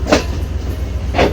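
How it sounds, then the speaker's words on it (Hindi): A Pakistan Railway train pulls out of Karachi station, heavy wheels clacking twice over rail joints beneath a steady low rumble, close and loud. "ये गाड़ी चल गई है"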